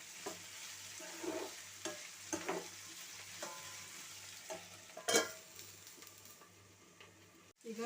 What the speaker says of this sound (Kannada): ಕ್ಯಾಪ್ಸಿಕಮ್ಮು ಆಯಿಲಲ್ಲಿ ಚೆನ್ನಾಗಿ ಫ್ರೈ ಆಗಬೇಕು.